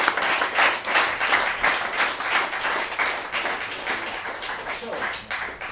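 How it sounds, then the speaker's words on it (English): An audience claps steadily and warmly after a bourbon talk by Preston Van Winkle, a dense indoor round of applause lasting several seconds with no talking over it. "just a round of applause for"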